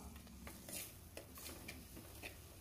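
A spoon scrapes and stirs cauliflower and vegetables with masala in oil in a pan, with soft clinks and a faint sizzle, quiet and close, with no talking.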